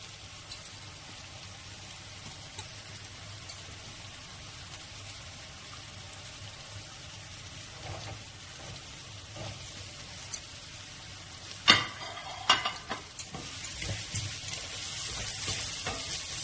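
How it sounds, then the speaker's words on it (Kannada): Corn is tipped into a hot pan and stir-fried for corn fried rice, giving a steady, soft sizzle with a few louder scrapes and clatters of a spoon near the end. "ಕಾರ್ನ್ ಹಾಕ್ತಾ ಇದ್ದೀನಿ ನೋಡಿ"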